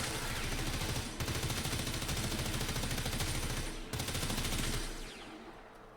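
The Stradavar Prime gun fires in a video game with sustained rapid automatic bursts, a dense rattling stream broken by two short gaps, then tapering off near the end, loud and without talking.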